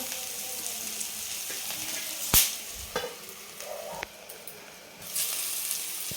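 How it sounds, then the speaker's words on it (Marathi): Onion, green chili, cashews, ginger and garlic fry in a pan that has been covered, giving a low soft sizzle broken by a few sharp lid and utensil clanks. "छान आपलं हे कांदा, हिरवी मिरची, काजू, आलं, लसूण छान परतून झालेलं आहे"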